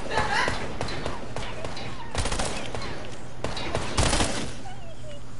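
Video game gunfire pops in quick, loud bursts with heavier thumping impacts scattered throughout, close and busy, while players talk underneath the shooting.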